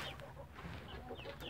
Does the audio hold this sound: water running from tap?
no